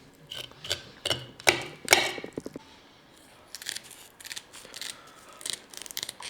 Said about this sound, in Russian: Ножницами срезаем плавнички.